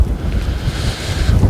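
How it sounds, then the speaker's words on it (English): Strong wind gusts across the open granite tors of Dartmoor on a foggy morning, a steady roaring rush buffeting the microphone close up, with low rumbling surges throughout. "it's pretty windy this morning actually, considering how still it was last night."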